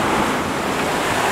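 Ocean waves rush and wind roars steadily across the microphone aboard the racing trimaran Sodebo, sailing under gennaker in strong gusts, a dense continuous wash of surf and buffeting air with no voices.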